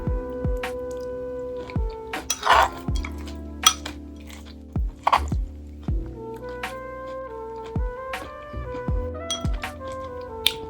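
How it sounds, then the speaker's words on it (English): A metal spoon clinks against a dish or container while someone eats coconut yogurt with granola, sharp clinks and taps scattered irregularly through the clip, close and fairly clear. "I'm eating my favorite yogurt right now."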